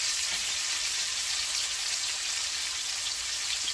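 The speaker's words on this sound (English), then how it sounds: "Sear everything at one time." Sous vide ribeye steaks searing in a hot pan give a steady, close hiss of sizzling fat, even and unbroken throughout with no voices.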